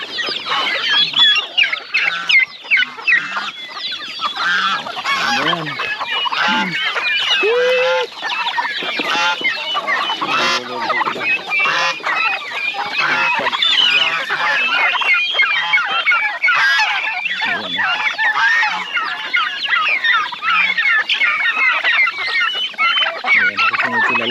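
A dense flock of chickens on a farm clucks and squawks continuously, loud and close, with goose-like honks mixed in and overlapping calls filling the scene.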